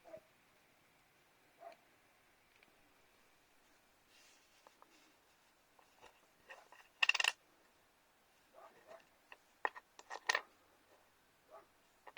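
Ukrainian 2 hryvnia coins from 2021 are turned over on a surface, giving scattered faint clinks and one louder metallic clatter in a quiet room.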